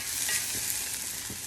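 Onions frying in a pan for spicy Belizean panades, a steady close hiss of sizzling oil with faint stirring scrapes, alone and continuous throughout.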